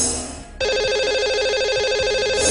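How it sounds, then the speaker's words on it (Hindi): A telephone rings out on a call to a lucky caller during a radio show, a loud steady electronic ring tone after a short dial-up lead-in, heard alone. "तो लगाते हैं इन्हें अब कॉल।"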